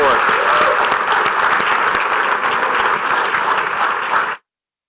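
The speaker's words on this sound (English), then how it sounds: "how about a round of applause again for the winning team?" Audience applause for the winning team at an Indiana soybean reception, dense steady clapping from a room full of people lasting about four seconds before cutting off abruptly.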